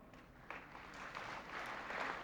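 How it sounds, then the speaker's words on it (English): Audience applause at a presidential speech at American University in 1997, a faint, distant sustained clapping that swells slightly toward the end. "yeah, you can clap for that"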